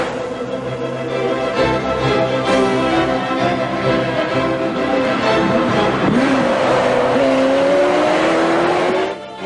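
A Ferrari racing on a track, its loud engine droning at high revs with rising and falling pitch as it accelerates and shifts, close and continuous throughout with no voices.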